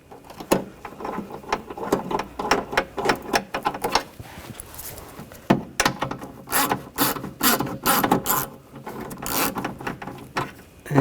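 A ratchet tightens a bolt on the rear window regulator of a 2000-2006 BMW X5, giving a steady series of close, sharp clicking and rasping strokes with short pauses between bursts.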